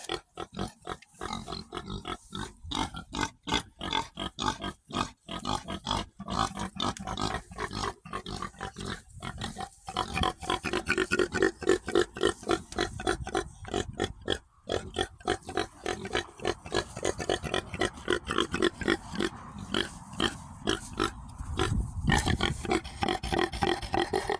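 Feral pigs (wild boars) grunting and snorting continuously, a dense, loud, close chorus of rhythmic guttural grunts from several animals with no speech.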